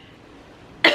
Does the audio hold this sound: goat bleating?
no